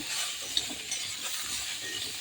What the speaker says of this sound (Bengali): একটু নেড়ে চেড়ে গাঁটি কচুটাকে